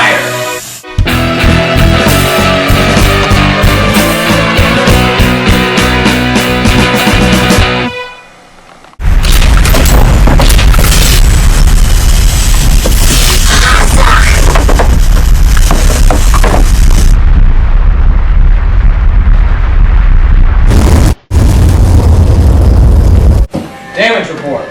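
Starship torpedoes firing and exploding in a space battle, heard as loud, dense bursts and roaring booms that fill the clip, with a brief drop near the start and a short cut near the end.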